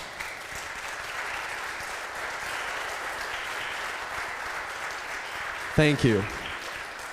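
Applause from attendees at an Ecumenical Ministries of Oregon advocacy day, a sustained even round of clapping across the room, with someone briefly speaking near the end.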